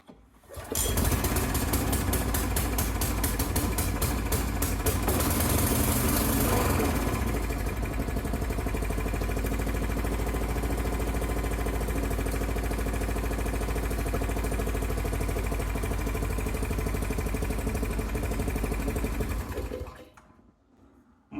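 A 2007 Briggs & Stratton 800-series small engine runs steadily at a low idle, a continuous near, loud chugging drone with a slightly rougher burst early on before settling, then cutting off at the end.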